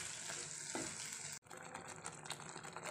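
Dal being stirred and mixed with spices in a pan, a steady close sizzle with scraping stirs that drops out for a moment and resumes with scattered crackles; no voices, fairly quiet overall.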